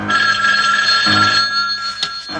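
Loud telephone bell ringing close by, a sustained electronic trill that cuts off and starts again with a sharp burst near the end.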